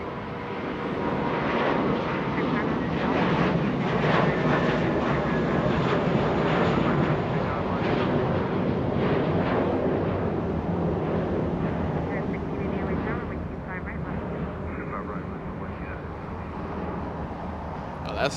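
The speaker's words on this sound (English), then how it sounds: "American Airlines, that's a little A321." A small American Airlines Airbus A321 jet roars steadily at Los Angeles International Airport, a broad loud rush that holds for most of the span before easing slightly, with a voice talking over it.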